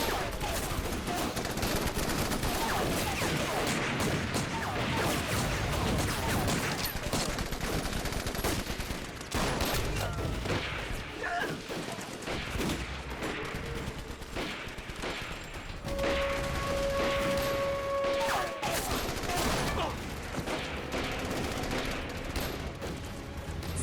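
Sustained battle gunfire from a war action film set against Japanese forces: dense, continuous bursts of rifle and machine-gun fire under a constant roar, with brief shouts in between.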